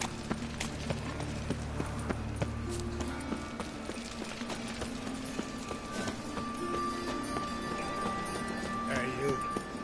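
A horse gallops in The Witcher video game, with steady rhythmic hoofbeats and game ambience underneath while someone talks over it.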